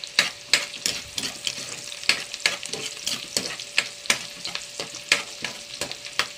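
Garlic, onions and ginger sautéed in a pan for fish sinigang, with a steady sizzle broken by repeated sharp scrapes and clacks of a utensil stirring against the pan.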